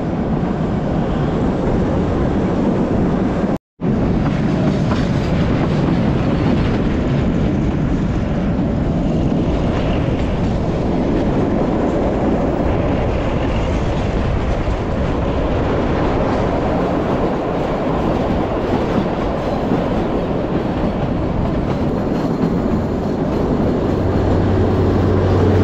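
The Kalka–Shimla toy train, the Shivalik Deluxe Express, runs along its narrow-gauge mountain line, heard from on board as a loud, continuous rolling rumble and rattle with a momentary dropout near the start.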